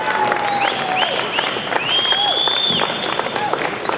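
Loud applause fills an arena after the final of a classified singles open table tennis tournament, sustained dense clapping with crowd noise throughout, mixed with whistling-like tones and cheers.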